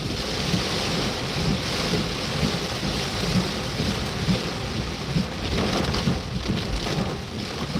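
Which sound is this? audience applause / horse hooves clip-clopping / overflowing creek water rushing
overflowing creek water rushing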